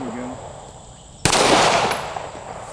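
A single sharp report from a Taurus G3C pistol fired at a steel target bursts loud and close, trailing into a bright ringing decay that fades over the following second.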